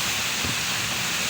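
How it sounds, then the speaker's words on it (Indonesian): Heavy rain driven by strong wind in the Jabodetabek area, a dense, even roar of falling water close by with no breaks. "Ya Allah, hujannya serem banget."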